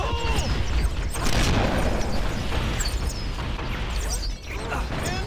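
Grenade explosion in Cursed Halo, a modded Halo game: a loud, dense boom and rumbling blast that fills the moment, set among busy combat noise and shouted game voices.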